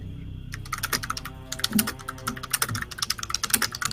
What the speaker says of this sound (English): loud typing.